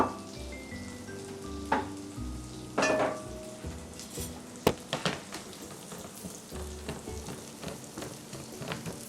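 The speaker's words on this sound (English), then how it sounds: "I put a tablespoon of butter in the pan. We'll put our red onion in the pan." Red onion sautéing in a tablespoon of butter for a sweet potato hash sizzles steadily in a pan, broken by several loud clinks and scrapes of a utensil against the pan, with no talking.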